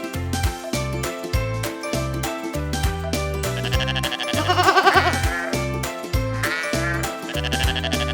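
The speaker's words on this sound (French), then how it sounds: "Comment fait une chèvre?" A goat bleats in a bright farm-animal sound set for children, with repeated wavering cries set over a bouncy rhythmic backing and light jingling, loud and close.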